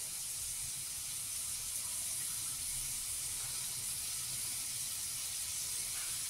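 Cold, boiled milk is poured into carrots frying over a medium flame for carrot halwa, giving a steady, loud sizzling hiss that fills the whole stretch with no talking.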